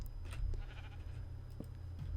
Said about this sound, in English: Oh, little sheep.